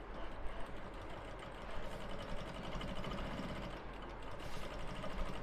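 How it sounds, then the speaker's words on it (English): A sewing machine hums steadily at a distance while stitching the red parts of a senator top, a low continuous mechanical drone with a faint rhythmic chatter. "So I'm sewing the whole red parts now"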